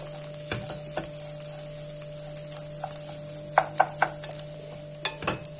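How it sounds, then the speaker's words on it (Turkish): Rice sautés in oil in a pan for chicken pilaf, a steady close sizzle broken by several sharp scraping clinks of stirring. "Şimdi kavurmaya devam ediyorum"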